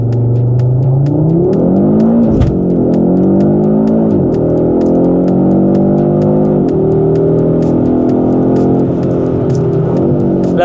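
A 2025 Audi RS 3 accelerates hard on a race track, its engine revving up through several gear changes, loud and close, with the pitch climbing and dropping at each shift.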